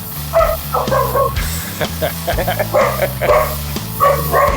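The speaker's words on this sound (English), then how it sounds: "A little sheepadoodle who is rambunctious but very happy." A small, rambunctious sheepadoodle barks in quick bursts indoors, close and loud, mixed with people talking over it.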